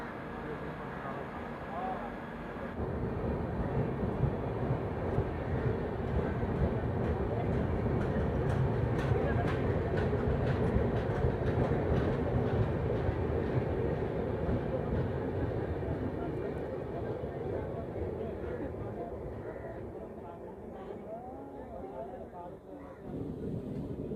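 A local passenger train pulls away from Muri station on the Ranchi to Purulia line, a steady loud rumble and clatter of wheels and carriages rising after a quiet start and fading slightly toward the end.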